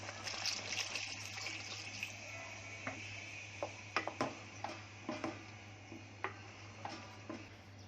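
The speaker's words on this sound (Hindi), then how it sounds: "अब इसमें डाल रही हूँ पानी" Water pours steadily into a pot of fried spices for pulao with a hissing splash, accompanied by scattered clinks and taps of utensils against the pot, alone without talking.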